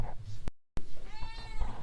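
A kennel cat at a campus animal facility gives a drawn-out meow, its harmonics rising and falling, set close against room noise and a brief cut in the sound.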